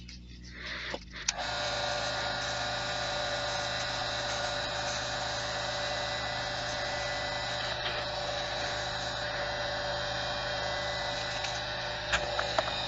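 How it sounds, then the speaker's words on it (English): The butt end of a turned handle is sanded with abrasive on a running lathe, a steady close whirring hum with a faint scratchy edge that continues without break. "Hit it with some abrasive to get rid of my nub that was left off from parting it."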